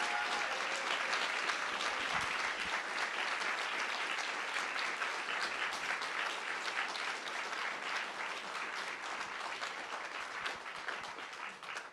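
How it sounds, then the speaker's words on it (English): An audience of graduation ceremony guests applauds for graduating MAE students in economics, with dense, sustained clapping and a steady roar of many hands throughout. "One more round of applause."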